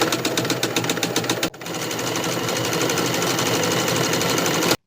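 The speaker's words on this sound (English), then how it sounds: "Then sew close to the raw edges all the way around with your stretch stitch." Sewing machine running a stretch stitch along the hem of leggings, first in a rapid, pulsing burst of stitching, then in a steady, continuous whir close by until it stops abruptly.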